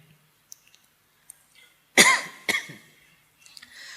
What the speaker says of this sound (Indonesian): Batuk kayak gini